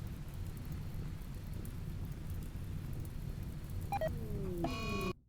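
Steady rain falls in the Rimworld colony game during a Warhammer 40,000 ork camp scenario, a dense even hiss throughout, broken near the end by brief electronic beeps and tones before it cuts off.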